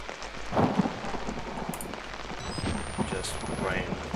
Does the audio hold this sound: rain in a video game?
yes